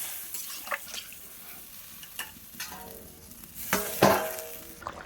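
Potatoes for a Bengali potato-fish curry sizzle and fry in a pan while being stirred, with a few sharp utensil scrapes and clinks rising over a steady low crackle, close and fairly quiet.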